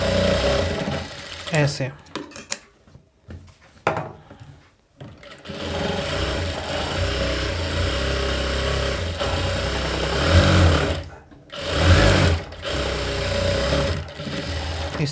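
A sewing machine runs steadily for several seconds at a time while stitching the seams of a princess cut blouse front, its motor hum loud and close, broken by short pauses, with someone speaking briefly between runs.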